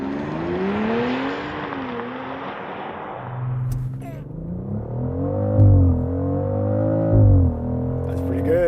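A 2025 BMW X3 M50i launches hard under launch control, its engine rising and dropping through quick gear changes with a loud, close, sweeping note. Voices talk over the run.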